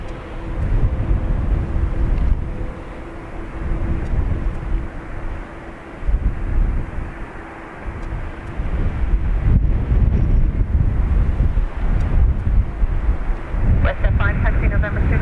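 A Boeing 737-800 takes off from runway 28 right at Dublin Airport with a sustained, loud roar, heavy wind buffeting on the microphone, and a voice talking over it.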